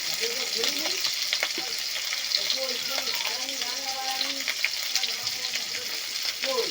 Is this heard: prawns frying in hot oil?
yes